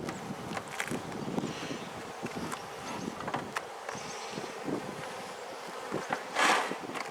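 Honeybees buzzing around an open hive while brood frames are inspected, a steady close drone with wind noise and a louder swell near the end as bees pass the microphone, no talking.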